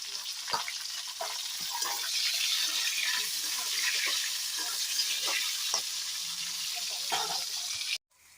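Bitter gourd and drumstick pieces fry in hot oil in a wok, a steady bright sizzle with scattered crackles and pops that runs evenly, then cuts off abruptly near the end.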